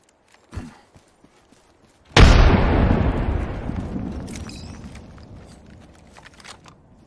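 A frag grenade detonates in the video game Apex Legends: a short pop, then after a pause a single loud, close blast with a long rumbling decay that fades out over several seconds.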